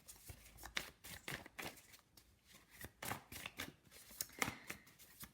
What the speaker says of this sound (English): or when I'm shuffling another deck.